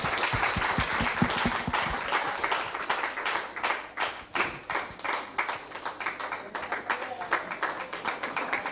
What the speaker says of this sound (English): They deserve a very, very big applause for that.